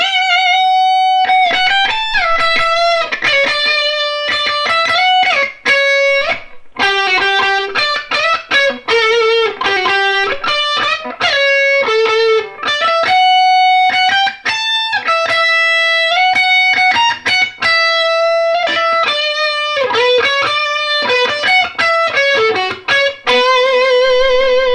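Electric guitar played through a Vivie Callion overdrive pedal with the gain turned all the way up, sustained distorted notes and chord phrases ringing loud and continuous with brief gaps between lines, no talking.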